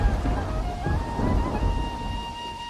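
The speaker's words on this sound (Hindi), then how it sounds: "बारिश तेज हो रही है" Heavy rain pours steadily in a thunderstorm, a dense wash of noise with low rumbling underneath and a faint sustained tone running through it.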